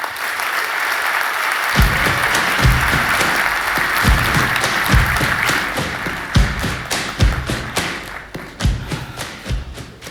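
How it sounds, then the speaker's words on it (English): A large DockerCon keynote audience breaks into loud, dense applause that swells quickly and carries on, with a few heavier thuds in the mix as it slowly thins. "So a huge round of applause to them,"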